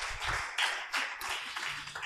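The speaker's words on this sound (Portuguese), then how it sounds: "Você pode aplaudir o Senhor." Congregation clapping during an evening sermon, a short, fairly faint burst of hands with a few distinct louder claps standing out, and no voices over it.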